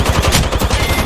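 Rapid automatic gunfire in a video game, a loud, close burst of evenly spaced shots rattling through the whole brief moment without pause.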